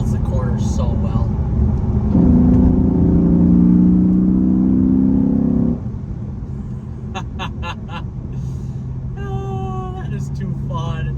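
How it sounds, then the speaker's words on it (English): A Chrysler 300C SRT8 engine revs up hard through a corner, a loud rising growl that holds for several seconds and then drops off, while someone talks excitedly over it. "As we go around this corner, oh God, as we get it in the rev range"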